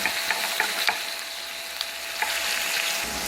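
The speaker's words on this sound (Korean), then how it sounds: "기름이 지속적으로 이렇게 짜글짜글 끓고 있는 걸 볼 수가 있습니다" Pork belly grills in bubbling oil on an induction-heated stone pan, giving a steady close sizzle with small crackling pops scattered throughout and no voices.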